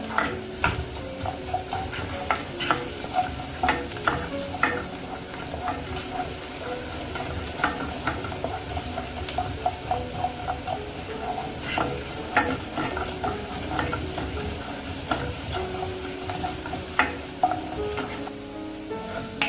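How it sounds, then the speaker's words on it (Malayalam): Ginger and garlic frying in oil for a dried mango pickle, a steady close sizzle with frequent scraping stirs and clinks throughout, no talking. "അപ്പം നമ്മൾ ഇഞ്ചി വെളുത്തുള്ളി നന്നായിട്ട് മൂക്കണം."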